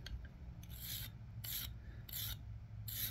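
The teeth of a multi-tool crosscut saw are filed by hand in four rhythmic rasping strokes, each a bright, gritty scrape about half a second long, close and fairly quiet over a low hum.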